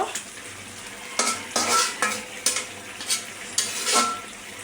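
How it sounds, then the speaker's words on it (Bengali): Tora fish and potato fry being stirred in a pan, with a spatula scraping and clinking against the metal in repeated bursts over a steady low sizzle, close and moderately loud, no talking. "এখন একটু নেড়ে চেড়ে দেব"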